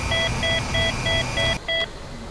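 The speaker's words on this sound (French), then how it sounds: "Alors je m'excuse pour cette alarme. C'est vraiment embêtant." Cockpit alarm in a helicopter in Microsoft Flight Simulator 2004, repeated short electronic beeps in a steady rhythm of about five pulses, close and prominent, ending abruptly.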